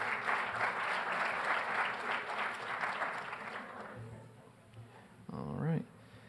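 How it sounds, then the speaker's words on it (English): Audience applause for an ice hockey team at a winter sports varsity awards ceremony, a dense sustained clatter that fades over several seconds, followed by a short voiced sound near the end. "So round of applause to the ice hockey team."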